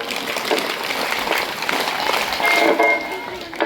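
Students applaud at a government school's Independence Day celebration, a dense, continuous burst of clapping from a crowd that holds steady and swells slightly toward the end.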